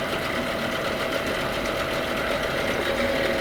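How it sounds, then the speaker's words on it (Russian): A repaired Tohatsu 8 outboard motor, once rusty and salt-damaged, runs steadily during break-in, a continuous close mechanical drone with a faint knocking texture throughout and no talk. "Мотор получился и работает отлично."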